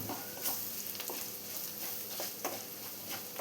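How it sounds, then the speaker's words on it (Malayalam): Spices and chilli powder stirred as they fry in a hot pan for Kerala kappa mezhukkupuratti, a steady close sizzle with soft spoon scrapes and brief clinks every second or so. "ഇനി ഇതെല്ലാം കൂടെ ഒന്ന് മിക്സ് ചെയ്ത് കൊടുത്ത് എല്ലാം കൂടെ ഒന്ന് ചൂടായി വരണം."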